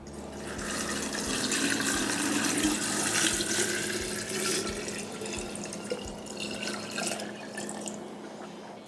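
Salt brine made from water and salt is poured steadily over vegetables for a fermented hot sauce, giving a continuous close splashing, trickling rush that lasts throughout without pause.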